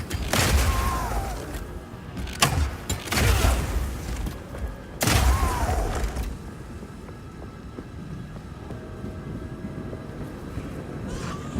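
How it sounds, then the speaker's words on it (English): Grenades exploding in Path of Exile 2 during Mercenary crossbow play: three loud, deep blasts burst out in quick succession, each with a rumbling tail. They fade into a low, steady game ambience. "you can explode any grenades that happen to be on the ground"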